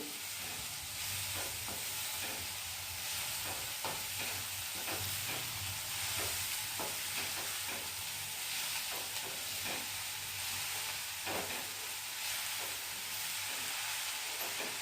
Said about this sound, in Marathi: एकजीव करून घेऊ हलवून